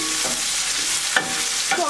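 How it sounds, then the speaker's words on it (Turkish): Chopped onions with green and red peppers sautéing in a pan, a steady close sizzle with soft stirring scrapes and a few brief clinks from the spoon. "Soğan ve biberleri hafif rengi değişene kadar kavuruyorum."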